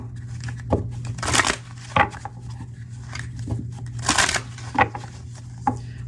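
Tarot cards being shuffled and handled, with several short papery riffles and soft taps rising over a low steady hum, fairly close and quiet.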